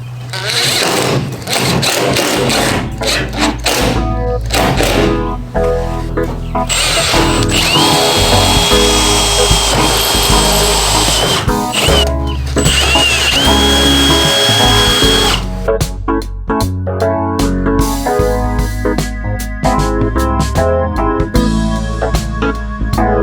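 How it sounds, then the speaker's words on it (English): A loud power drill whirs close by in long bursts, drilling into a Ford van's roof, its motor pitch rising and dropping as it starts, bites and stops. "So I'm basically just drilling into the pre-existing roof in there."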